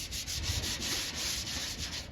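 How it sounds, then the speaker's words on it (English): Steady back-and-forth scuffing of epoxy primer on a Chevy dually truck bed, rhythmic abrasive rubbing strokes at close range with no voices. "So I'm going to go around and scuff all these areas up just like that"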